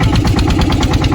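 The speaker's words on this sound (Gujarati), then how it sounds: "બોટ શરૂ થઈ ગઈ, હવે આપણે જવા દઈએ।" A hand-cranked boat engine runs loud and close, a fast, even chugging pulse of mid-low thumps with no break and no voices.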